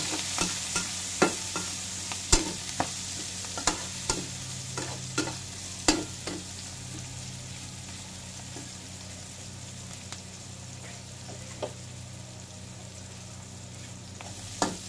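Tripe seasoned with salt and pepper browns in a frying pan with a steady soft sizzle, punctuated by repeated close clacks of a spatula stirring, which thin out later, with no talking.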